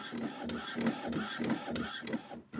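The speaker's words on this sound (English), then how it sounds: "I just pushed the button on the printer and forgot they make loads of noise" A printer runs with a rhythmic mechanical clatter, regular pulses of whirring and clicking repeating about twice a second, close by and then cutting off at the end.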